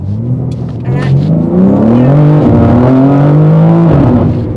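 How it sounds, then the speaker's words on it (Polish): A car's engine revs up steadily and accelerates, a loud rising drone that climbs in pitch and holds near and strong for several seconds with little else around it. "tak przyspiesza ten wóz"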